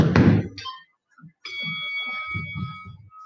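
A workout interval timer goes off with a bright electronic beeping tone, sounding after a thud and brief quiet, while a person talks and breathes over it during an abs exercise session.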